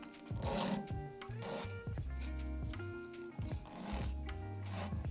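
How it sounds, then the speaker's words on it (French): A hand file rubs along the edges of small soldered brass heart earrings, giving soft repeated rasping strokes up close, mixed with light handling noise and no talk. "Donc juste en cassant les bords comme ça, avec une lime tout doucement."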